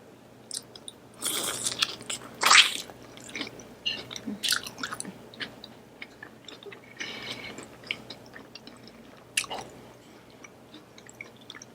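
Close-up chewing of a scallop from a seafood boil with Flamin Hot Cheetos seasoning, giving wet, squishy bites and a few sharper crunchy smacks in irregular bursts, loud and near, with no speech.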